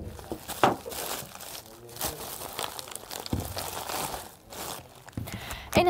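Crinkly plastic rustles and tears as a JAC fuel injector is unpacked from a VCI rust-preventive bag, close and irregular, in soft handling bursts with a brief crunch.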